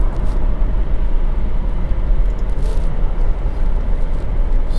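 A high-mileage 2018 Alfa Romeo Stelvio downshifts into fourth gear on a winding road, its engine a loud, steady low drone under constant road and wind roar with no clear rev change standing out.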